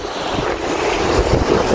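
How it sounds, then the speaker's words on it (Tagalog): Strong wind buffets the microphone while sea waves slosh and surge around a small fishing boat on open water in hot morning conditions, a loud, dense, continuous roar with low rumbling gusts. "Pero lakas pa ng hangin tsaka alon."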